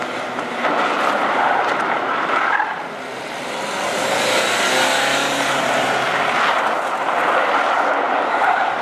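A Peugeot 208 accelerates on a sandy road, a steady, loud rushing roar of engine, tyres and wind heard from close by, dipping briefly and then building again.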